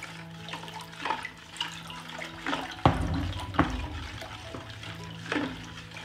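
Salt is stirred into four litres of cold water in a large bowl to make brine for cabbage: irregular sloshing and spoon knocks, a few sharper splashy strokes, fairly close with a steady low hum underneath.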